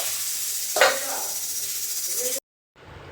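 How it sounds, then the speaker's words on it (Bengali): Sliced bitter gourd (uchhe) dropped into hot oil, a sudden loud sizzle that settles into a steady hiss, then cuts off briefly before resuming. "এদিকে দেখো আমি উচ্ছে ভেজে নিচ্ছি"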